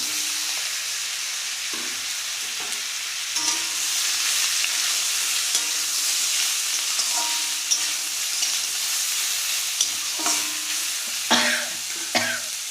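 Boiled taro tipped into a pan of black cumin and chilli over low gas, a continuous hiss of frying broken by scraping stirs and a few coughs nearby.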